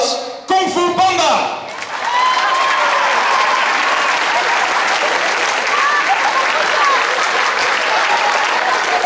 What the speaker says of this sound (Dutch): Heet hem welkom met een oorverdovend applaus